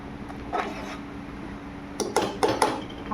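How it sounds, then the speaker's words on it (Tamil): A spoon scrapes and knocks against a cooking pot while masala is stirred, with a few soft rubs early on and then a quick cluster of four or five metallic clinks close by, no talking. "அதை நல்லா கிண்டிக்கணும்."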